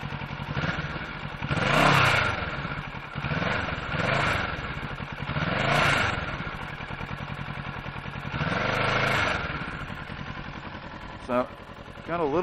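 A 2017 Kawasaki Ninja 650 motorcycle engine starts and is revved several times, each throttle blip rising and falling in a steady pattern over a low idling rumble, recorded close by.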